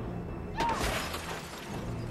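A car window of tempered glass shatters in a movie scene, a sudden bright crash followed by a spray of tinkling fragments that trails off, with no voices over it.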